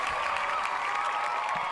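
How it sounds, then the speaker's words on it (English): Crowd applause with scattered cheering, a steady wash of clapping heard from a distance, faint and continuous. "There we go, Rico, and you got applause."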